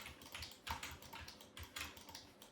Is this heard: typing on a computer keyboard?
yes